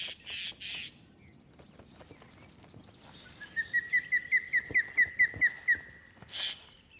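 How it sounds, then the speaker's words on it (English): Jays call near an osprey nest in the Stechlin-Ruppin lakes area, giving a few harsh early cries and then a quick run of a dozen sharp, rhythmic notes, clear and fairly close. "There are jays breeding next to them"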